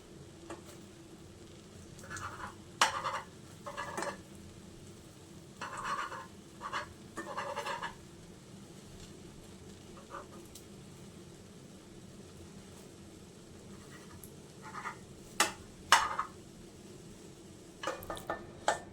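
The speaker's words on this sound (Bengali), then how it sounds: "এখন আমি একটা ছুরির সাহায্যে ডিমটা পিস পিস করে কেটে নেব।" A knife cuts a fried egg into pieces in a pan or on a plate, with scattered sharp taps and scrapes in short clusters over a quiet kitchen background. No one speaks.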